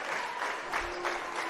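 A hometown crowd in a high school basketball gym claps and cheers as the Lawton High Wolverines are introduced, sustained applause with a tonal note running through it, close and steady.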